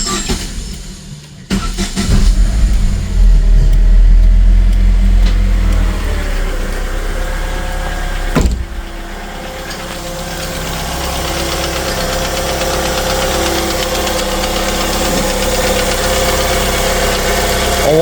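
A Chevrolet Lacetti engine idles after repair, a steady mid-pitched running drone with a brief louder rev burst early on, then settling into an even, continuous hum close by with no talking.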